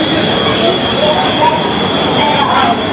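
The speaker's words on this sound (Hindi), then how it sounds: "ये देखें इस वक्त ट्रेन स्टेशन पे पहुँच चुकी है।" Lahore Orange Line metro train arriving at an underground station, a steady loud rumble with squealing wheels and a high whine, continuous throughout without clear talk.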